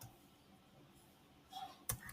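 A short burst of clicks on a computer keyboard as a shortcut is typed in Excel, a few quiet key presses near the end, the last one sharper, against a faint background.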